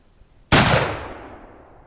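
A single loud, close shot from a Colt Single Action Army revolver loaded with 40 grains of triple F black powder, fired at an outdoor target; a sharp crack followed by a long, fading echo.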